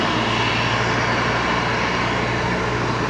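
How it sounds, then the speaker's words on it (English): A China Airlines Airbus A350 arriving at Brisbane Airport, heard as a steady, loud, broadband engine roar that holds evenly throughout with no break. "So the China Airlines 350 arriving for the second time in Brizzy today"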